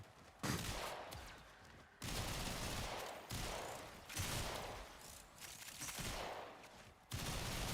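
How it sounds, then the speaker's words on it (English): Rapid pistol fire from the character Mesa in the video game Warframe: repeated long bursts of dense, overlapping shots, each lasting a second or two, with abrupt starts and brief gaps between them. "So many pistol shots."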